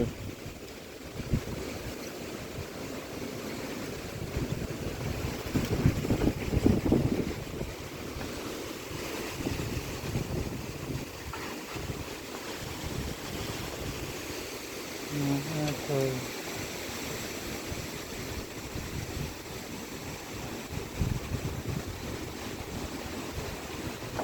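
Strong wind gusts blow steadily over an open outdoor area near trees and a sheet-metal roofing job, a loud rushing roar that swells and eases without pause.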